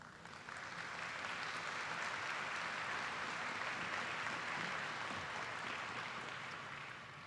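Sustained applause from a graduation and investiture crowd, steady and dense for several seconds before tapering slightly at the end, with no talk over it.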